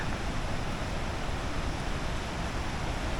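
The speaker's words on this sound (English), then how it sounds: "the roaring water is getting really loud here" Roaring water near Hidden Falls at Jenny Lake in Grand Teton National Park, a dense, loud, unbroken rushing roar filling the whole clip with no voices.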